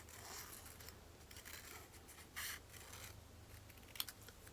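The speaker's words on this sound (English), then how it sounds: "I'm going to fold it in half, and I am going to cut out a circle" Scissors snip through folded paper to cut out a circle for a homemade craft project, a few quiet, close cuts and rustles against a low steady hum, no voices.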